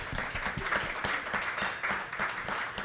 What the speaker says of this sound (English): I'd like to go ahead and give a big round of applause to MESA Mexican Cuisine